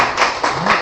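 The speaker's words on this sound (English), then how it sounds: "Big round of applause for them." Brief burst of audience clapping at a tech meetup, a few close, loud hand claps in quick succession without a full crowd swell.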